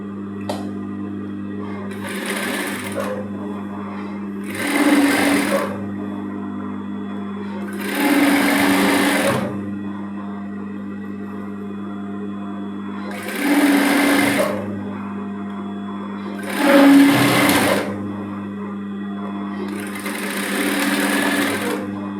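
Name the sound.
sewing machine stitching a dart on a blouse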